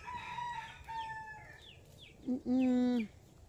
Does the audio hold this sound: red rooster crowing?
yes